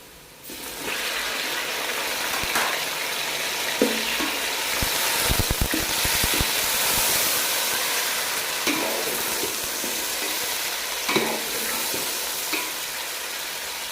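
Tomatoes hit browned onions frying in oil for a beef aloo gosht, a loud burst of hissing sizzle followed by a steady close fry and occasional scrapes of stirring, with no talk over it.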